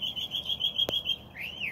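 A bird chirps steadily in a high, continuous trill over faint background noise, with a rising whistled call near the end, heard alone without talk.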